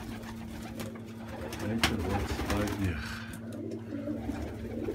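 Pigeons coo and call in a dovecote, a healthy pigeon with a black checkered tail among them, with low steady cooing running throughout alongside a sustained hum while someone talks nearby.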